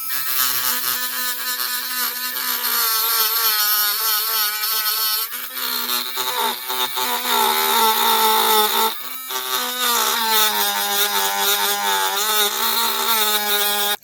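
A handheld rotary tool cuts with a steady, high-pitched whine whose pitch wavers as the bit bites and eases, with brief dips in the buzz, loud and close throughout.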